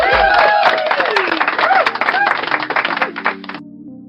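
Dense clapping and cheering from a small crowd marking Cinco de Mayo, a steady close patter with voices mixed in that ends abruptly, leaving a faint tone.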